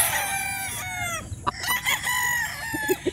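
Several gamecock stags at a game farm crow close by in drawn-out, overlapping calls, followed by short clucks and other fowl sounds.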